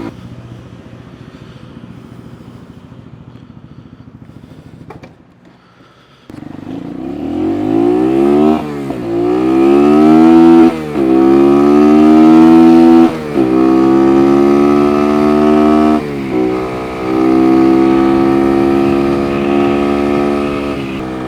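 A Kuba Race 125 motorcycle, with a loud aftermarket-sounding exhaust, idles quietly, then fires into a series of close, loud revs and accelerations, pitch climbing through gears with brief lulls between.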